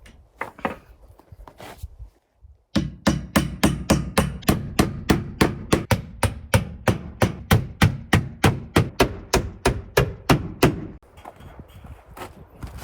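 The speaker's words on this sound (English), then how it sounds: "I'm just using the 2-inch roofing nails." Steel siding on an off-grid cabin in snowy mountains is fastened with 2-inch flat, thin-headed roofing nails, about twenty sharp hammer blows in a steady, even rhythm after a short quiet start, then stopping.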